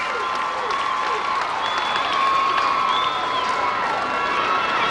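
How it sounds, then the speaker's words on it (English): Crowd applause with scattered cheers fills a 1995 baseball game between the Colorado Silver Bullets and Hollywood Star Sox, steady and fairly loud throughout, with a few whistles rising above the clapping. "It's applause for Tamara Ivy,"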